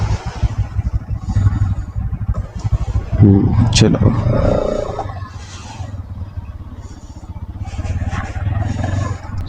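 An NS 200 motorcycle engine idles with a steady low rumble that holds throughout, while someone talks over it at close range.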